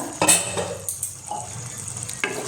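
A spoon stirring mushroom masala in a pan, with several scraping, clinking strokes against the metal and a soft sizzle underneath, close and fairly loud.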